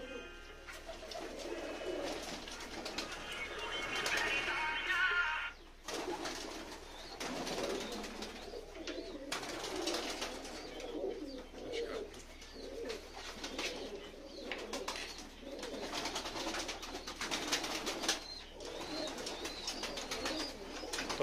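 Soft, repeated cooing of pigeons close by, a low rolling murmur continuing throughout with faint background noise and no speech.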